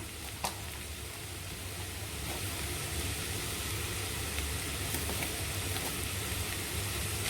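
Bitter gourd pieces sautéing with salt in a pan on the stove, a steady soft sizzle with occasional light clicks and stirring scrapes, quiet and continuous with no talking.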